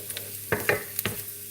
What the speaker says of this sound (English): So now this is the ginger from oil, so I'm going to put the sauce in.